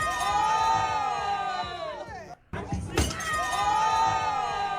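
A crowd of women cheering and whooping with high-pitched voices, loud and continuous, broken by a brief drop near the middle before the cheering swells back.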